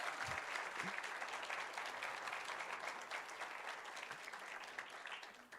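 Sustained applause from an audience at a presentation of LGBTI+ results from Ecuador's 2022 census, a dense wash of clapping that holds steady and slowly thins toward the end.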